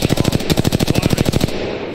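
Rapid automatic gunfire from a weapon in the Apex Legends video game rattles off about fifteen close, loud, evenly spaced shots in a quick burst before stopping abruptly into a fading tail.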